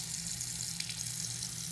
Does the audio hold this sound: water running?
yes